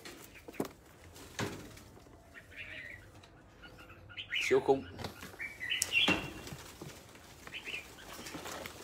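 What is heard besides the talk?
bird calls and flapping wings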